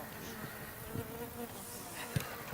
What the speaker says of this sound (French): Je filmer que des guêpes,